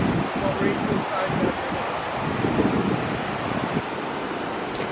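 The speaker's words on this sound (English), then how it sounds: "I'm sure you can hear how loud the river is." A loud river flows near a bus parked outdoors, giving a constant, full rushing roar that fills the whole clip, with faint low murmurs that may be voices underneath.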